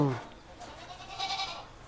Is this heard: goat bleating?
yes